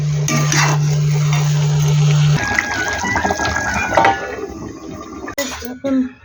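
Hot water is poured into curry cooking in a pan, a loud close gush and sizzle of liquid that runs continuously with some stirring and clatter near the end, over a steady background hum.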